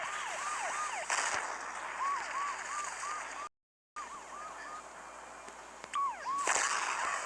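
A wailing police car siren in a knockoff Transformers video game sweeps up and down repeatedly over background noise, briefly cutting out midway before resuming, with a few sharp bursts.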